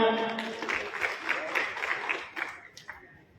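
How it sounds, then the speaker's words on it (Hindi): Applause from the crowd at an Adivasi community gathering as speaker Bhim Bhai is called up, a dense burst of clapping that starts strong and gradually thins out over a few seconds, with a voice audible at the start. "मैं भीम भाई के लिए जोरदार तालियां"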